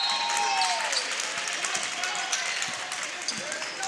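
Crowd in a high school boys basketball gym applauding as a player leaves the game, a broad sustained clapping wash with a commentator talking over it.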